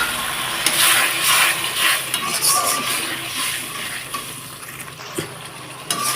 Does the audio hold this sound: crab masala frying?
yes